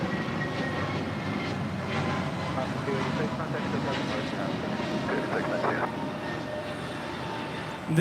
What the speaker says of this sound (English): This is Alaska Airlines 286 departing to New York Liberty on an A321neo in the Mortalev livery.